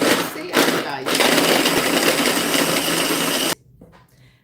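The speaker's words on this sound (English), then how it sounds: "I'm using my beautiful food chopper that I purchased a couple of weeks ago" A small electric food chopper grinds pecorino cheese with a loud, gritty buzz for about three and a half seconds, then stops abruptly. A voice talks briefly over the start.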